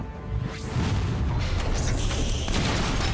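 Cannon fire in the video game Front Mission 3, a heavy booming blast followed by a sustained rumbling roar and crackle, loud and continuous for a few seconds.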